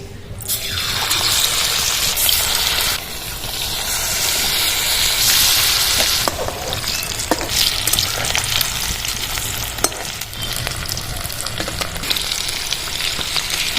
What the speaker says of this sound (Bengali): দশ মিনিট ম্যারিনেট করা মাংসটা আমি তেলে ছেড়ে দেবো এবার